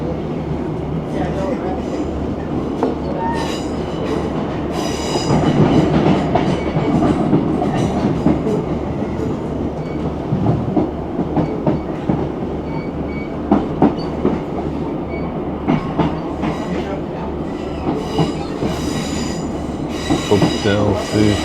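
A Northern passenger train on the Calder Valley line rumbles over a junction, with continuous interior rolling noise, repeated wheel clicks and squeals from the points, heard from inside the carriage under occasional faint talk.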